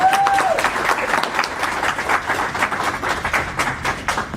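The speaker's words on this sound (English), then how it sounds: "So Clap it up." Steady applause from a convention panel audience, a dense wash of clapping sustained at even loudness throughout, with a brief whoop near the start.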